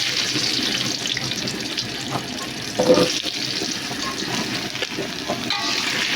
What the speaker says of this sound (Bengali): এবার আমি এর মধ্যে আলুগুলো দিয়ে ভেজে নেব।